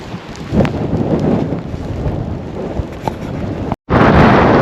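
Strong wind buffets a GoPro microphone on a North Wales coastal path, a steady loud roar with gusty swells that cuts out briefly near the end before returning.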